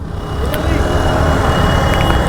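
Congested road traffic in Prayagraj, heard from an Activa scooter: a dense, steady wash of car and truck engines with a faint horn, continuous and close, with talk underneath.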